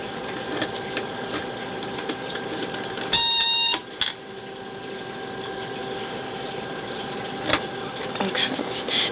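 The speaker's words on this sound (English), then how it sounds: "that alarm you heard, that is to let us know that the key is turned on and the oil pressure is going up, but the motor has not started" On a Sea Ray 340 Express Cruiser, an ignition warning alarm sounds with the key on before the engine starts: a short, steady electronic tone lasting under a second over a constant low hum.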